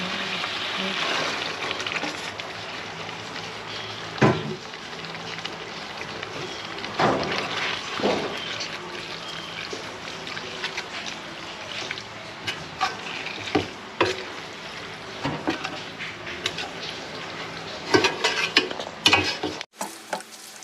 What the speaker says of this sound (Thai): แม่จะใส่หมูแล้วค่ะเครื่องแกงผัดหอมแล้ว